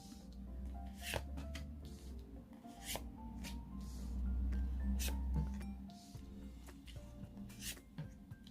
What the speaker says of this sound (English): Put a few cards down.